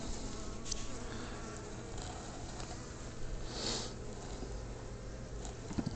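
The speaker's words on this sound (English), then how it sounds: "These three bars on the end have bees hanging off of them, festooning." Honeybees swarming and festooning from the end bars of a top bar hive, a dense, steady buzzing hum that fills the whole span, close and continuous with no voices.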